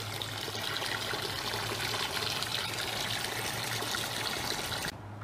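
Liquid fertilizer stock solution pouring steadily into a hydroponic growing tank in a Hawaii vegetable garden, a continuous close splashing trickle that holds even for about five seconds and then cuts off.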